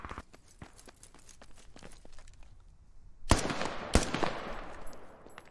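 Marksman rifle gunshots in the video game Squad, two sharp, loud cracks about half a second apart with ringing tails, following a stretch of faint clicking and footstep-like taps.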